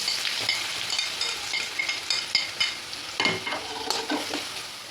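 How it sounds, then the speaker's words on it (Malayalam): Spices and whole coriander seeds being stirred as they fry in a pan for drumstick rasam, with a steady sizzle and repeated scraping strokes of the spoon, close and without talk. "ഇത് പച്ചച്ചവ മാറുന്ന വരെ ഒന്ന് ഇളക്കാവേ"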